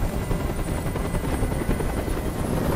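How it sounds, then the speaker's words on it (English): A helicopter hovers in the video game Detroit: Become Human, a steady, loud rotor drone with a continuous low rumble and faint whine running throughout, with no speech. "Tell that helicopter to get out of here."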